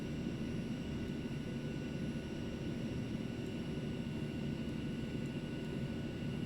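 Aerobask Eclipse 550 jet in X-Plane 11, a steady low engine roar and drone with a faint high whine, constant and unbroken throughout, no voices.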